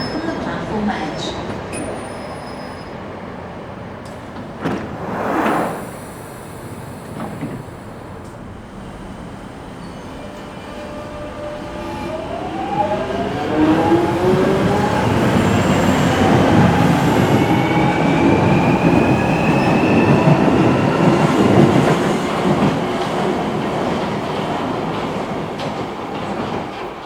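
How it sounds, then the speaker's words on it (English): A London Underground Jubilee Line train pulls into a station platform, its rumble building from about halfway through and holding steady and loud, with rising and falling whine tones as it slows; a brief thump sounds early on. "The train now approaching Westview, Stratford."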